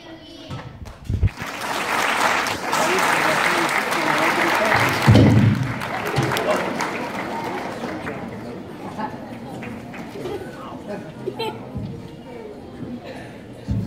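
An audience at a second grade Christmas concert bursts into loud, dense applause and cheering that swells for several seconds and then fades into scattered clapping and chatter, with voices talking nearby.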